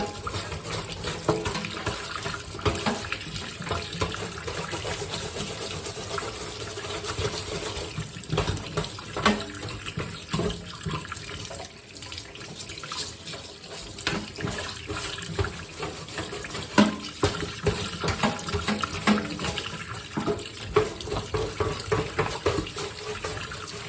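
A kitchen tap runs steadily into a sink while freshly dug mullein roots are scrubbed with a brush, a continuous close splashing wash with faint scraping textures throughout.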